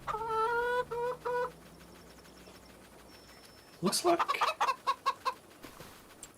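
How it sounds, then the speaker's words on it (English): Chickens cluck in a Farming Simulator 25 farm game, a quick series of sharp clucks following some tonal game sounds and a spoken remark. "Our chickens have now maxed out."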